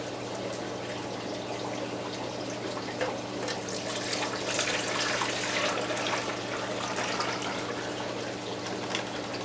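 Water pours steadily into a plastic fish shipping bag, a continuous gushing, splashing stream that grows slightly louder and more turbulent midway, with a constant background hum.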